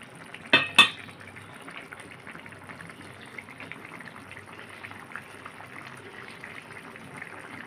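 Someone stirs tengra fish and bitter gourd curry with potato and roasted cumin powder in a pot over high heat. Two sharp clanks of the spoon against the pot come first, then a soft, steady simmering hiss.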